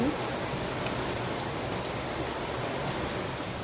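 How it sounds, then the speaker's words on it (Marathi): Heavy rain pours down steadily outdoors in a village, a dense, continuous hiss that stays even and close throughout with no voices. "आमच्याकडे पाऊस पण खूप जोराचा आहे आवाज येत असेल तुम्हाला बघा पाऊस पण खूप जोरात आहे"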